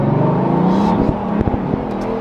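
Car fitted with a full titanium Rift exhaust revving, a loud, close, deep engine drone that rises and falls, with a few sharp crackles and pops as it settles.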